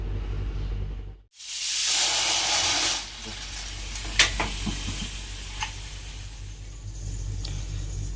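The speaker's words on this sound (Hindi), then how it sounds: "गोश्त को मैंने 2 कुकर में डाल दिया है। अभी इसको बॉयल करेंगे।" Beef cooking in two pressure cookers for a Pakistani degi pulao, giving a loud continuous steam hiss and bubbling with a sharp burst of venting, brief clanks and occasional ticks over a steady background roar.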